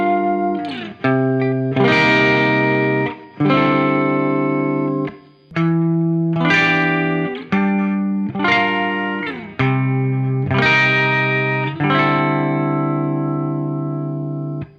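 Clean electric guitar played through Marshall Studio Vintage SV20 and Jubilee amps, a loud sequence of ringing strummed chords and arpeggiated notes with sustained harmonic decay, heard alone with no talking.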